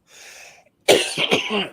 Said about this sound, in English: as soon as you talk about health, you start coughing